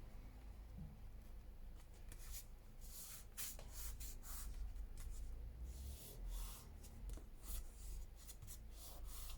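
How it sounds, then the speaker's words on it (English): Paper being trimmed for a collage planner page, close-up scraping and rubbing strokes with short crisp bursts repeating unevenly throughout, no talking. "now I'm going to have to trim this up"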